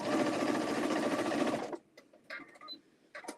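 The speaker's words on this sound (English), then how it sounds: "bring it over to your sewing machine, and sew on that line" A sewing machine runs steadily for about a second and a half, stitching along a marked line, then stops, leaving brief faint handling clicks and taps close by.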